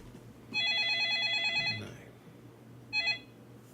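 A telephone ringing during a live coding session: an electronic ringtone trilling in a rapid warble for about a second and a half, a pause, then a short second burst, fairly clear above quiet room noise.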